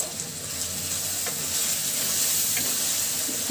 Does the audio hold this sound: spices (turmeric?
yes